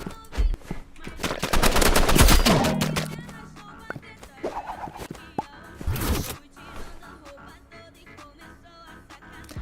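Rapid paintball gun shots in a Roblox game, with a dense burst of cracks and pops early on and a second sharp cluster a few seconds later, loud and close, fading into lighter scattered taps.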